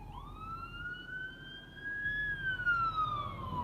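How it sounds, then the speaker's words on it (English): An ambulance siren wails in a single rising then slowly falling sweep, fairly distant and clear against quiet background, with no talking. "an ambulance siren."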